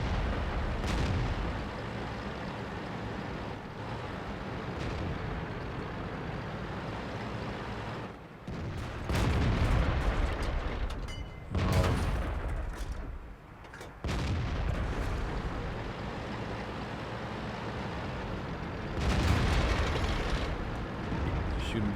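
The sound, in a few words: tank cannon fire and explosions in World of Tanks video game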